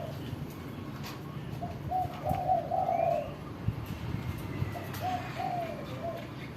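Racing pigeons cooing at a training loft, with soft repeated coos in two short runs over a steady low background rumble, fairly close.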